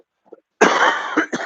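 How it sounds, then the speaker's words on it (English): A single harsh, close cough from someone who vapes, preceded by a faint breath, with a rough sustained burst and a couple of quick follow-up hacks at the end. "Oh, it's so awkward to cough right now, even."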